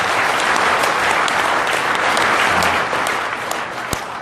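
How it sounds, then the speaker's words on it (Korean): Sustained applause from a large audience, a dense steady roar of many hands clapping that fades slightly toward the end. "우리 감사하다는 뜻으로 박수 한번 치고"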